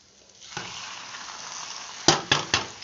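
Boiled moringa greens drop into a hot pan for an egg stir-fry, setting off a steady close sizzle that swells at the start, followed by three sharp scraping stirs near the end.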